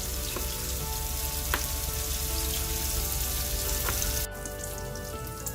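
Chicken meatballs fry and brown in a pan, giving a steady close sizzle with scattered pops and crackles that runs continuously, then drops slightly quieter near the end.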